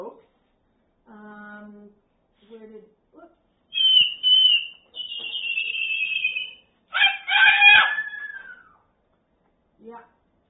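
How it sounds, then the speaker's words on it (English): A pet parrot whistles in clear, high sustained tones, a few separate whistled phrases from about four to nine seconds, loud and close, with softer harmonic chirps and bird vocal sounds before and after. "Paul says that his teal is answering Mango's whistle."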